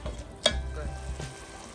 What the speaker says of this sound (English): we're gonna stir this and let this simmer for about 5 minutes